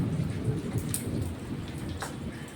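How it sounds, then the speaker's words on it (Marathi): Light drizzling monsoon rain falls outdoors as a soft, steady patter of drops with occasional closer splashes, faint and continuous, with no talking. "आज खूप छान मस्त असं रिमझिम चालू आहे पावसाचं"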